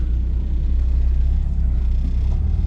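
A BMW E31 850i, revived after sitting abandoned for 15 years, drives slowly under its own power with a loud, steady low engine rumble close by and no talk.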